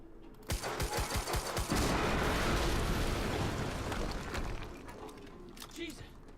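In the video game Quantum Break, a rapid string of gunshots aimed at barrels leads into a loud, sustained blast and rumbling roar that slowly fades, heard close and without talk.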